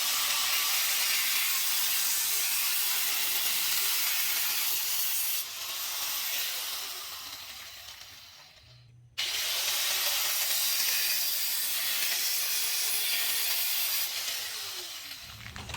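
Cutting into the steel window frame of a 1966 Ford Bronco, a steady, loud broadband saw-like hiss running continuously, with a brief drop and a sharp cut-off near the middle before resuming at full strength.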